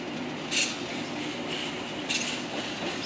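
A train passes at Langen station, track 3, during a crossing stop: a steady, dense rolling rumble and hiss close by, with two brief brighter hissing bursts partway through and no talk.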